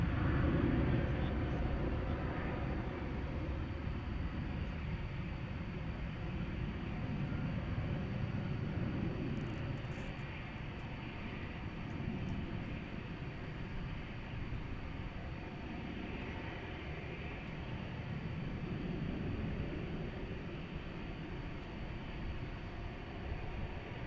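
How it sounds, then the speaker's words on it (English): An American Airlines Airbus A321 jet at DFW Airport at night makes a continuous low rumbling roar that swells and eases slightly, heard from a distance in open air with no talk. "American Flight 339. It's an Airbus A321."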